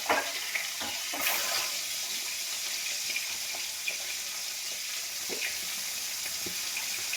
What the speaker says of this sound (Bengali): ভালো করে ভেজে নেবো ডিমগুলোকে